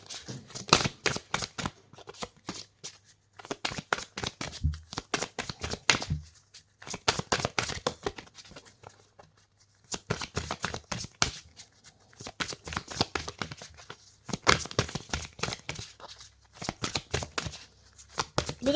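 Oracle cards shuffled by hand for a tarot-style reading, a long run of crisp riffling bursts in repeated rapid clusters separated by brief pauses, close up with no voices.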